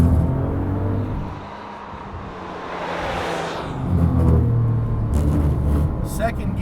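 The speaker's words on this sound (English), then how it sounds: "Second gear on full throttle is really a big thrust" A Porsche 997 GT2 RS, turbocharged with a manual gearbox, pulls hard at full throttle in second gear, its engine roar swelling and rumbling up close from inside the car, with a rising whine as revs climb.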